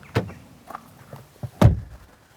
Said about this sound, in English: Once the quality door thunks shut